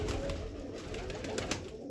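Pigeons coo in soft, repeated throaty calls, fairly close, with faint background rustle and no speech.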